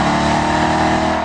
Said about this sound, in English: Its heavy V8 also makes the most sweet, caramely V8 noise of any car here, if not any muscle car ever.